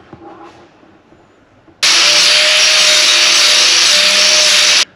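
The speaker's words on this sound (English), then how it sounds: "Now I'm just gonna grind this down." An angle grinder smoothing welds on a steel bed for a 1930 truck starts up after a few faint clicks and holds a steady, loud, high whine to the end before cutting off.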